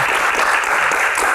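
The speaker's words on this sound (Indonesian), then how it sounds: "tepuk tangan buat Mbak Dewi." Dense, steady audience applause at an Indonesian award event Q&A, loud and continuous with no gaps, filling the whole short stretch.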